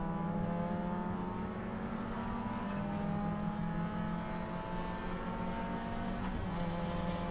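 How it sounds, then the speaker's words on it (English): Engine drone from a B-Spec Honda Fit race car as a faster ITA-class car passes on the left during an amateur road race, a steady loud in-car hum with shifting pitch and no talk. "we're going to have another ITA car, another faster car move by on our left"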